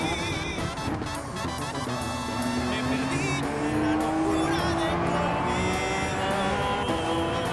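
A Gr3 race car at Daytona in a racing game spins its wheels while peeling out, with a loud, close engine rising steadily in pitch under a sustained tire squeal for several seconds.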